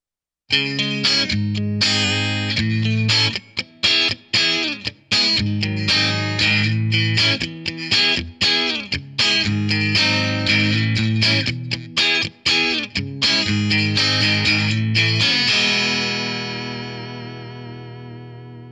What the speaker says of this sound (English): We now have the tubes reconfigured as if it was a British chime type amplifier